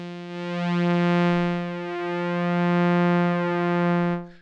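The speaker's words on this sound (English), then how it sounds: "I think it's a saw and a square wave just mixing together" Proclethya synthesizer plays a single sustained buzzy note from saw and square wave oscillators mixing, rich in harmonics, swelling gently in level, then cutting off near the end, with no voices present.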